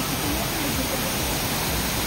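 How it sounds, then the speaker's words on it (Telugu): Water plunging down from above at Raikal waterfall makes a continuous, loud broadband roar that fills the scene without pause, with no talking. "వాటర్ ఫాల్స్ పైనుండి ఇక్కడ వాటర్ వస్తున్నాయి."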